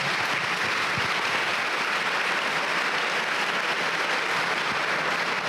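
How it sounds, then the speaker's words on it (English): An audience at a middle school awards assembly applauds to welcome the school principal, a dense, even wash of clapping from a large crowd that holds steady throughout. "And please welcome with a round of applause, Mrs. Munoz, Central Middle School Principal."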